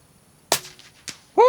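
Shots at a target-shooting practice session: two sharp cracks about half a second apart, the first louder, followed by a voice starting right at the end.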